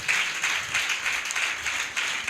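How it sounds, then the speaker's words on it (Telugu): Church congregation clapping hands in praise during a sermon, a moderately faint, blended patter of many hands that swells and dips in a loose rhythmic pulse. "చప్పట్లు కొట్టి దేవుడి నామానికి కనపరుద్దాం"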